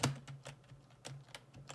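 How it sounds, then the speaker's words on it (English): A computer keyboard clacks loudly and close with irregular separate keystrokes, a few sharp taps spaced across a quiet background with no talking. "I'm sorry if you hear a very loud keyboard noises."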